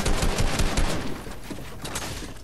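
Rapid bursts of gunfire in the battle royale game Fortnite, loud cracks packed close together at first, then thinning into a quieter, rougher spray of shots.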